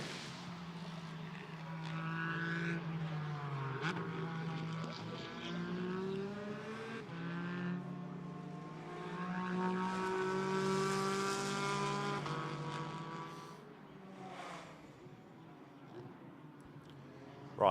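GT4 race cars pass one after another during qualifying at Misano. Engines whine and rise in pitch as they approach, overlapping as several cars go by, loudest near the middle and then fading away.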